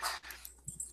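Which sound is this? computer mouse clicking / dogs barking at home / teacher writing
dogs barking at home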